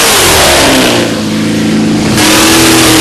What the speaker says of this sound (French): Le moteur est en fait un V8 Chevrolet qui développe désormais 1400 chevaux.